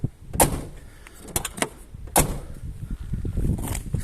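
Two Škoda Favorit car doors shut one after another, each a sharp metallic thunk with a rattle, recorded nearby with light background noise between.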